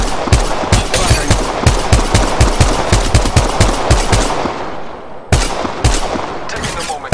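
Rapid automatic gunfire in the mobile battle royale game Apex Legends Mobile, loud dense bursts of shots in quick rhythm, with a brief pause before firing resumes.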